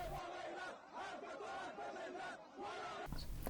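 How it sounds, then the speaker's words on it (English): A crowd of protesters at a demonstration by the Baluch community in Galikesh, Golestan Province, Iran, chanting together in loud rhythmic unison, with the chant rising and falling in repeated phrases. "Members of Iran's Baluch community held a demonstration today in the city of Galikesh in Golestan Province"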